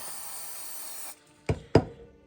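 Hairspray hissing from a can onto sea moss model scenery trees, a steady close spray that cuts off abruptly, followed by two sharp knock-like taps.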